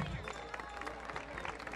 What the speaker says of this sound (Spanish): Démosle un fuerte aplauso al profe.